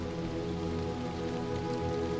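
Rain falls in the video game Little Nightmares II, a steady, even hiss of drops pattering on surfaces, with faint tonal game ambience running underneath.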